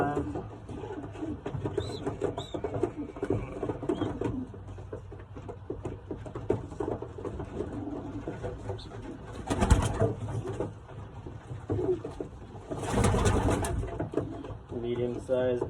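Young racing pigeons coo repeatedly in a loft, soft throaty calls under frequent nearby talk, with occasional wing flutters and brief scuffling bursts.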